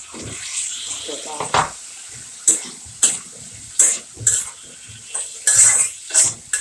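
Potatoes go into a pan of cooked-down tomatoes for aloo dum, with a series of clattering spoon scrapes and knocks against the pan over a soft background sizzle, and a voice speaks intermittently between the strokes.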